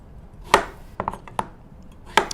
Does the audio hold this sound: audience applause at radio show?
no